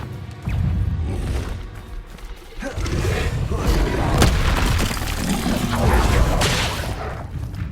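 Confringo blasting spells go off one after another in a Hogwarts Legacy fight, a loud, dense run of booming, crashing blasts over about eight seconds, with roaring, rumbling bursts and little quiet between them.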